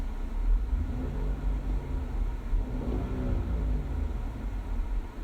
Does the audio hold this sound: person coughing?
no